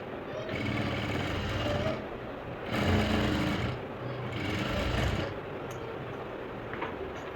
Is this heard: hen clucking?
no